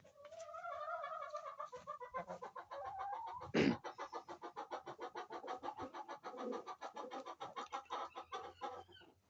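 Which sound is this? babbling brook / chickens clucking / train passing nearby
chickens clucking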